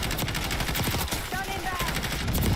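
Rapid automatic gunfire from a Call of Duty match rattles in close, dense bursts, with a voice faintly present underneath.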